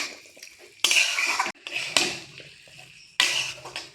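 Boiled chickpeas and boiled potatoes with chopped coriander are stirred together in a pan, giving three loud bursts of metal spoon scraping and clattering against the pan with quiet gaps between.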